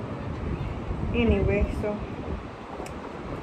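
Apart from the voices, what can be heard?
wind blowing outdoors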